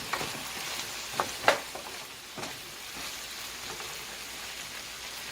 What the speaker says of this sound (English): stirring your seasonings.